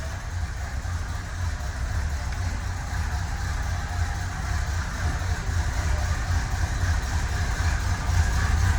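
A 1970 Oldsmobile Cutlass Supreme convertible engine idles steadily and close by, a low continuous rumble with no talking, holding a constant level throughout.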